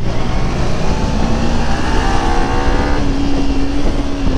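A KTM Duke motorcycle passes close by on a road, its engine note rising and then shifting pitch as it goes past, loud and steady throughout with no talk.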